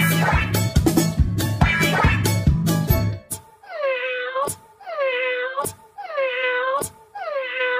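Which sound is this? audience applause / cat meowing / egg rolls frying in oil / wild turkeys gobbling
cat meowing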